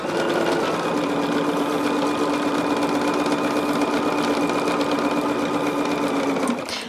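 A sewing machine stitching fabric pieces for a quilt face, running in one loud continuous whirring buzz up close, then stopping abruptly at the end.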